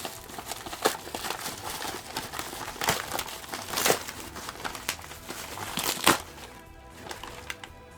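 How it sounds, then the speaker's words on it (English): Bubble wrap and masking tape crinkle and crackle as packing material is handled while unboxing a retro ASUS GeForce 8800 Ultra graphics card, a steady close rustle dotted with sharper snaps and tearing sounds. "got some masking tape and some bubble wrap"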